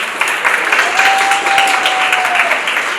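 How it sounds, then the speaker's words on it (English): A school audience applauds at a Grade 9 debate final, a dense, steady wash of many hands clapping at once, loud and continuous throughout. "Let's clap for them"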